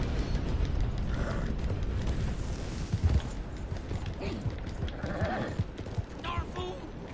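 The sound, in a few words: horse (mare) hooves clip-clopping in video game Red Dead Redemption 2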